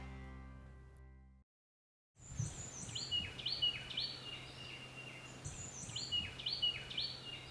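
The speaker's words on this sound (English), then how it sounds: "That's a cardinal. That's his call." A cardinal repeats its call outdoors in a series of clear, moderately distant whistled notes over soft background noise, following a brief burst of music that cuts off.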